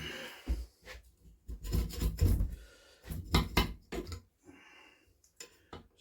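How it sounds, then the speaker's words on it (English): A Briggs and Stratton 5hp engine's carburettor is scraped clean with a tool, giving repeated rough rasping strokes in short uneven bursts, close and dry, with small metallic taps between strokes and no talk. "There's our carb, which is going to want scraping off."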